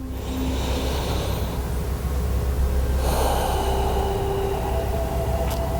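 Slow, deep breathing during a guided yoga session, with a couple of soft, drawn-out breaths heard alone over a steady low background hum, fairly close and quiet.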